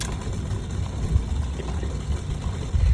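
An auto gate's motor mechanism runs with a steady low mechanical hum and rumble for the whole stretch, with a slightly louder surge near the end.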